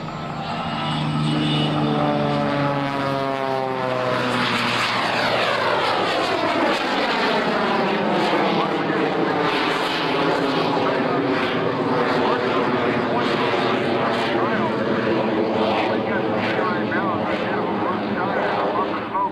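A propeller aerobatic plane engine drones loudly and steadily at an air show, its pitch sweeping up and down through a five-turn spin, with a voice talking over it.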